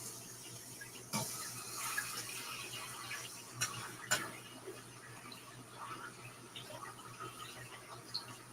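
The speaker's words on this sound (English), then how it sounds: "I need more water running for a second because I got to wash this." Water runs from a tap into a sink for washing, a soft continuous hiss broken by a few faint clinks and knocks.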